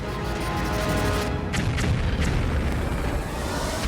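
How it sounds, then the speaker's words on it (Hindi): A 2000-pound bomb explodes in an airstrike, a sustained deep rumbling blast with crackling bursts and a long roaring tail, loud with no voices. "जब ये बम गिरता है तो ऐसा धमाका होता है जो पूरी बिल्डिंग को गिरा देता है।"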